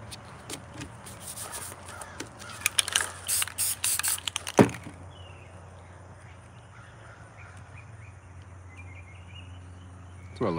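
An aerosol can sprays clear coat paint in several close, hissing bursts with clicks and rattles between them, followed by a longer stretch of quieter background noise.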